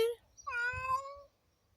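A black cat gives one clear, drawn-out meow up close, followed by a short fainter call, with a person speaking softly nearby on a street in Ashdod, Israel.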